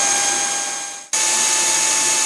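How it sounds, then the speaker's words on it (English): A grinder regrinds a planer feed roller with a loud steady whine and high tone that briefly dips and cuts out, then resumes at full strength. "for what purposes this roller's going to serve later on, this grinder's going to be good enough"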